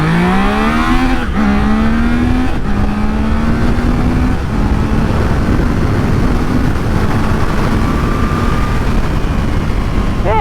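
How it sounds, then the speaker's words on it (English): Triumph Trident 660 motorcycle accelerating hard from a green light, its engine note climbing through several gear changes, loud and close with steady wind noise. "then we're going to see the acceleration potential of the Triumph Trident"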